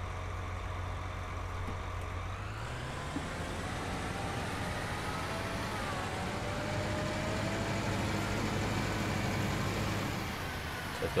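A steady engine rumble from a John Deere 6R tractor in Farming Simulator 19, with custom mod sounds, drones on at constant loudness, its pitch shifting upward as it starts moving.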